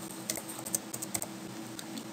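Keys on a computer keyboard are tapped in a short burst to type a name, about a dozen close, crisp clicks in an uneven rhythm over quiet room tone, with no talking.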